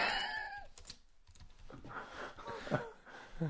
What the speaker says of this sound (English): I'm just typing in the title of the episode